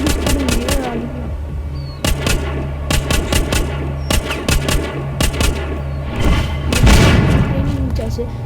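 Repeated gunshots ring out while zombies are shot in the mobile game The Walking Zombie 2, sharp single shots at an irregular rhythm over steady game background sound.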